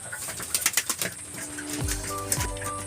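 Domestic pigeons cooing in a loft, a few soft low coos near the end after some brief fluttering and tapping noises, fairly quiet and close.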